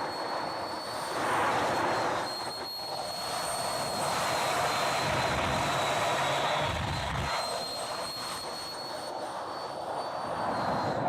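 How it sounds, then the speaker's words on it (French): A small plane's engine drones steadily in the distance as it prepares to take off, a continuous broad roar with a faint whine, swelling and easing slightly over several seconds. "Dans le nord, Sandrine s'apprête à décoller."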